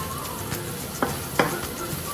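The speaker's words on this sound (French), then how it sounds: "on a bien fait revenir la tomate concentrée avec les légumes" Tomato paste and vegetables fry in a pot, giving a steady soft sizzle with a few light scraping taps from stirring, fairly close and without talk.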